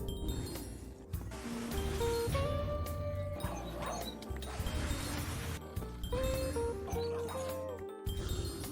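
Wolves bark and yip repeatedly in a game cave called Howling Cave, with sharp barks mixed among game sound effects and tones across the whole stretch.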